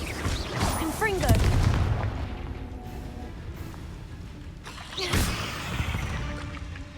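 Confringo fire spells blasting in Hogwarts Legacy inside a cave, with two booming impacts, one near the start and one around five seconds, each trailing off amid game sound and a voice.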